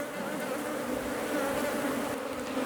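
A dense, continuous drone of honeybees swarming around a disturbed hive, close and steady with no voices over the buzzing.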